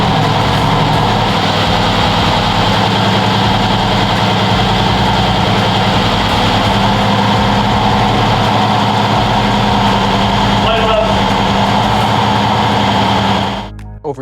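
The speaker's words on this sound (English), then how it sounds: "one of my friends actually revved the car so that way we could see if there were any air leaks coming out of the intake system" A Mercedes-AMG GT S fitted with a carbon fiber air intake runs steadily and loudly up close, its engine droning at a constant pitch with a slight swell midway, then cutting off abruptly near the end.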